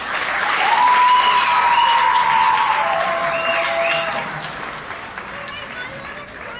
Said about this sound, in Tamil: அவங்க எல்லாத்துக்கும் ஒரு பெரிய கைத்தட்டல் கொடுக்கலாம்